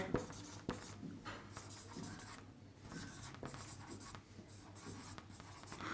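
Chalk or marker scratches on a board in a classroom lesson, a steady, faint stream of scraping strokes with small taps, close by over a low background hum.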